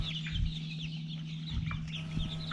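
Young rooster about four weeks old, one of a batch of chicks on a farm, making soft clucks and chirps close by over a steady low hum, with a few brief bursts through the clip.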